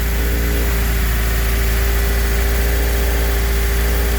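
A Honda CRX with a swapped K24 engine idles while warming up, giving a loud, steady, even drone with a constant low hum and no changes in revs throughout.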